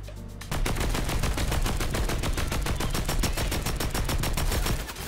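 Rapid automatic gunfire in Fortnite, a dense, loud stream of evenly spaced shots lasting several seconds, close and unbroken, without voices over it.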